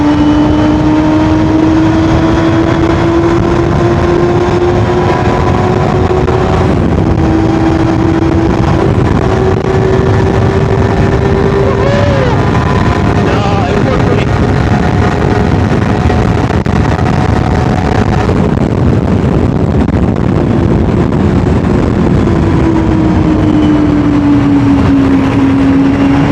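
A 250cc four-cylinder Honda Hornet 250 with cam-gear drive, about 90,000 km on it, revs high and holds a sustained loud engine whine while riding, pitch rising and falling with throttle, loud and close throughout.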